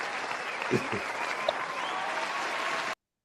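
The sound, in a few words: crowd applause sound effect played in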